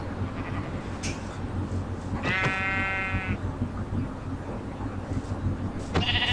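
Sheep in Minecraft give a short bleat around two and a half seconds in and another near the end, set over a steady low game background hum.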